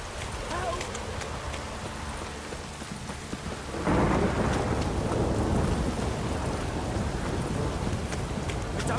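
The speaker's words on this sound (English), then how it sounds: "If it don't stop raining, my arse will rot off." Steady rain and thunder in The Witcher 3, a broad hiss that swells sharply about four seconds in and stays loud to the end, with low rumbling underneath and faint voices mixed in.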